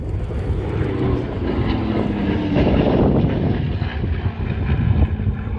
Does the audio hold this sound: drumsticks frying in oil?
no